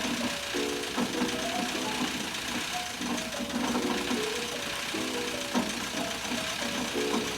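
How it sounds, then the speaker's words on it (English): A loose heater core rattles inside its housing in an old MG Midget with the engine idling, a steady mechanical chatter and knocking running continuously alongside tonal engine hum throughout. "That rattle you can hear in the background is actually the heater core rattling about inside its housing"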